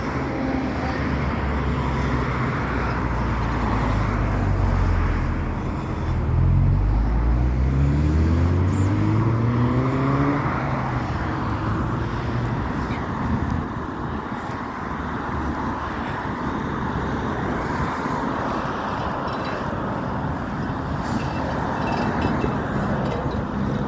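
Steady car traffic on a university campus road, a continuous broadband roar of passing vehicles with a few engines rising and falling in pitch as they go by, moderately loud and without talk.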